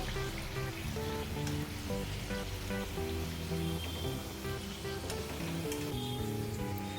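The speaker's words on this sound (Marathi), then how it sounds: "अशा प्रकारे आपण सर्व कापण्या तळून घेऊया" Red pumpkin slices (kapnya) fry in hot oil with a steady, fairly quiet sizzle and bubbling that holds evenly throughout, with no one talking.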